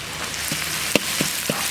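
Dried chilies and Sichuan peppercorns frying in hot oil with minced scallion, ginger and garlic in a wok, a steady close sizzle broken by several sharp pops and spatters, no talk.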